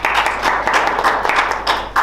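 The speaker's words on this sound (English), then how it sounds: "Let's give her a round of applause." Steady applause from an audience at a film festival media briefing, dense clapping held at an even level for about two seconds.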